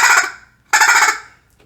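A Primo Squirrel Buster call is shaken back and forth to imitate squirrel chatter, giving two loud, raspy, buzzing bursts with a short gap between them, heard close and alone.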